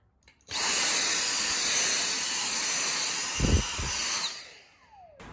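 A handheld cordless Dyson vacuum switches on with a high-pitched whine and whooshing suction, runs steadily for a few seconds, then spins down.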